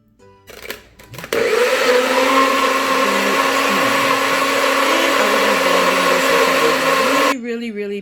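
A blender whirs through tomato puree, starting after a brief clatter and holding a loud, steady motor drone for several seconds before cutting off.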